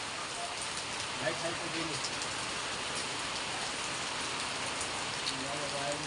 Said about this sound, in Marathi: कंटिन्यू पाऊस चालू आहे इथं